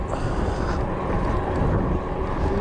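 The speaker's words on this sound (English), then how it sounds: "it's probably going to get a little bit, or probably already too breezy, and you probably can't already hear me" Steady, blustery wind buffets the microphone of a Cyrusher e-bike rider cycling along a hazy stretch of coast near Folkestone, a dense continuous low roar with no talking.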